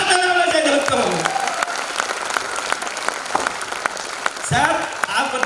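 Audience applause at the Safeshop Diamond Celebration 2017, an indoor corporate gathering, comes as loud, dense clapping that runs throughout, with an amplified voice speaking over it at the start and near the end.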